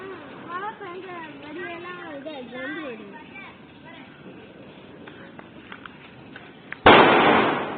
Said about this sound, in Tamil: எங்களோட வெடி தானே அது.